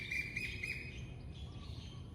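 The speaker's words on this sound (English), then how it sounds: "I think you can hear some little birds chirping there." Faint little birds chirp in a few quick tweets over a low background hum, fairly distant.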